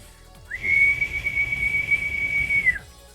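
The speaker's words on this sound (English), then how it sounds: "I cannot do that high-pitched whistle." A single long, piercing two-finger whistle from a character in the video game The Dino Wizard, held steady at one high pitch for over two seconds, loud and close, with no talk over it.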